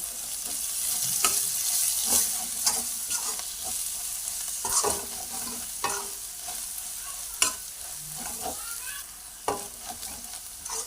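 Onion and ginger-garlic paste sizzle in a pan for a Telangana-style paneer curry, a steady close frying hiss broken by repeated stirring scrapes and clicks, with no talking.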